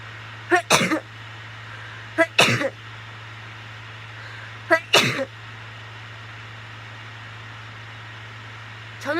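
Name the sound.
repeated sneezing induced with rolled tissue in nostril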